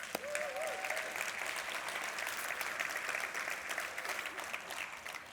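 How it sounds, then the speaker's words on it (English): A crowd at a public service gathering claps steadily and fairly loudly throughout, with one brief whistle-like tone near the start. "Let's give them all a round of applause."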